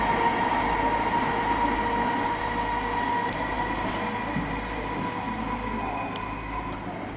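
A ComEng electric train approaching through an echoing underground station, a steady loud rumble and hum of motors and wheels with reverberant wash and a few faint metallic clicks, no voices.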